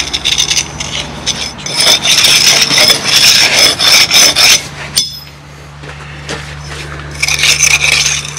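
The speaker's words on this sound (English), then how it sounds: "Over it with the thinner end, and that compacts it again." A steel pointing trowel repeatedly rubs and scrapes along fresh mortar in a brick wall joint, compacting it in steady, gritty, close strokes with a brief pause midway and no talking.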